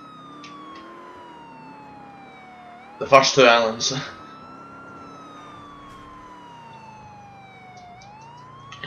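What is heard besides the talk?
police car siren in video game Grand Theft Auto IV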